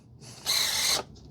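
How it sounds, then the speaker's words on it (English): A short burst of high-pitched mechanical whirring from an RC plane's nose wheel gyro servo, running for about half a second, loud and close, then cutting off. "what you're hearing is that gyro come on"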